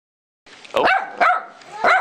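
A dog belonging to someone's brother barks three times in a steady rhythm, sharp and close, each bark loud and clear with no other sound between them.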